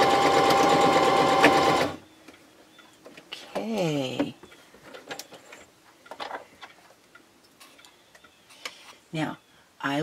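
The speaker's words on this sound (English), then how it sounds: "stitching the batting onto the back side of the fabric" A sewing machine stitches quilt batting onto the back of fabric for a small quilted microwave cover, running in one loud steady burst for about two seconds, followed by quieter handling noises and brief rustles.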